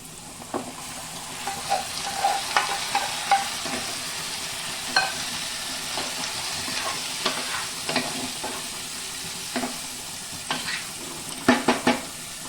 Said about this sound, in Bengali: পেঁয়াজটা আমার লাল লাল ভাজা হয়ে গেছে। এখন আমি মটনটা দিয়ে দিব।